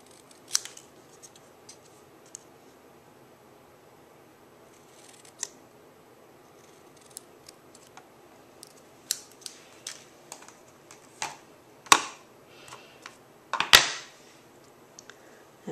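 Scissors snip through paper to cut out a small nose shape for a handmade snow day card, a series of crisp, close, quiet cuts in irregular bursts, with the sharpest snips near the end.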